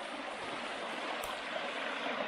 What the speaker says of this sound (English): Very pretty little stream.